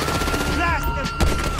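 Rapid gunfire in a Grand Theft Auto V gunfight, bursts crackling over game music and background noise, with a sharper louder crack near the end.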